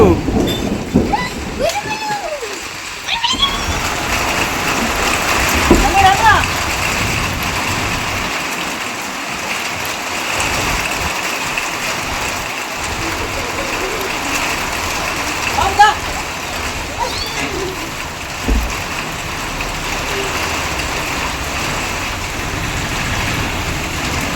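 A sudden downpour falls steadily outdoors, a dense continuous hiss of rain splashing on surfaces that lasts throughout, with faint occasional sounds beneath it.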